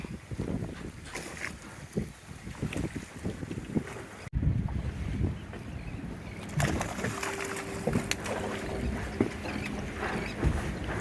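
Wind blows hard across a microphone on a fishing boat at sea, a steady buffeting roar with water and hull noise underneath, with no speech.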